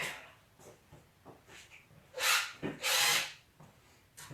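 Two short, loud whirring bursts of a power drill removing door screws from an armoire sound up close, separated by quieter handling and scraping noises.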